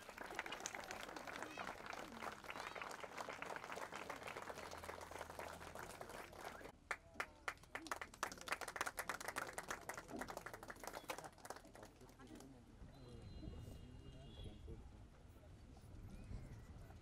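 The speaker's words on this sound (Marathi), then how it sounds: "मित्रांनो, जोरात टाळ्या वाजवूया." At a diesel pump launch event, a crowd claps briefly and raggedly to welcome the chairman, with loud amplified talk before and after the bursts of clapping.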